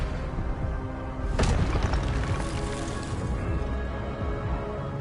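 An Expelliarmus spell cast in Hogwarts Legacy, a sharp whooshing burst that flares suddenly and trails off over a dense, steady game backdrop.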